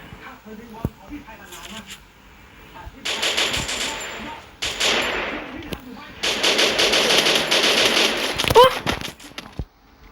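Gunfire in the Free Fire battle royale game comes as sharp isolated shots and then sustained loud automatic bursts, close and dense, mixed with faint in-game clatter.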